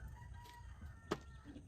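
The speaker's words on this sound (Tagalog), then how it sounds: "Maraming manok." A rooster crows once among chickens, a brief, faint call rising over a quiet background with low rustling.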